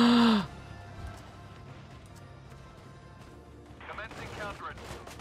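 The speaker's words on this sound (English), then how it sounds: "Who is shooting at me?" Gunfire in the war strategy game Valkyria Chronicles 4, with a loud tone at the start and then a faint crackle of shots that swells into a scattered burst of firing near the end.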